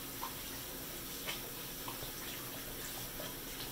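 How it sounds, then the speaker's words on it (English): A kitchen tap running into a sink while hands are washed, a steady, soft stream of water with faint splashes, fairly quiet and close. "I'm going to quickly go wash my hands"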